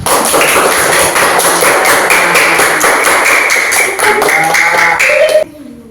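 A school class claps together in applause, a fast, dense patter of many hands close by that holds steady for several seconds and then stops abruptly.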